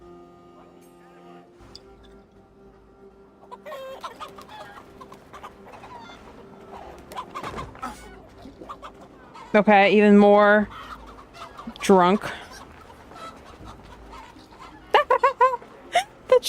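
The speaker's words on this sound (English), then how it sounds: "The chickens." Chickens cluck and squawk in Assassin's Creed Valhalla, with loud close bursts of clucking among quieter game ambience, and someone talks briefly in between.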